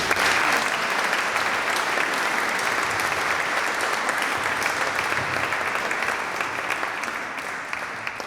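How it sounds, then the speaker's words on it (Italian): Loud, sustained applause and cheering from a crowd at a medal ceremony as a silver medalist is proclaimed, a dense, continuous clatter of clapping that tapers slightly toward the end. "Tra i forti applausi e le grida di festa"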